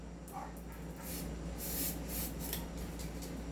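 Silicone oil sprayed onto an airsoft gas blowback rifle magazine gives a close, breathy hiss in short bursts, with a stronger spray in the second half.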